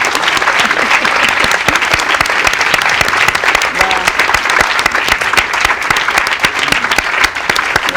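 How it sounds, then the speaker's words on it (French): A large audience at a film screening and discussion in Espace Saint-M applauds loudly and steadily for a few seconds, with dense clapping filling the room and no voices on top. "J'aimerais que toutes et tous vous applaudissiez très fort Anne-Marie"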